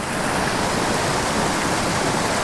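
A tiny trout creek rushes and bubbles over rocks into foam, a steady, full broadband wash of moving water heard close and unbroken, with no voices.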